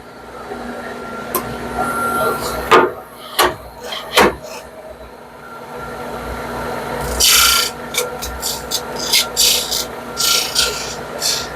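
A wooden charcuterie board being smoothed by hand, quiet rubbing and rasping strokes with a few sharp knocks, then a quicker run of scratchy sanding bursts, close and fairly soft.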